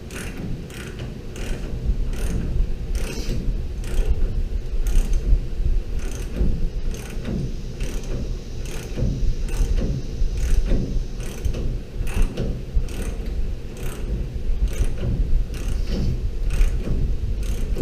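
A hand ratchet clicks in quick repeated bursts while tightening bolts during a Caltrac traction bar install on an S-15, a rhythmic metallic ratcheting up close that continues throughout.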